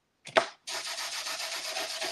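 An old nail file scrapes across a sheet of craft paper, roughing it up: a single short scratch, a brief pause, then a continuous close, rasping rub with slight back-and-forth pulses.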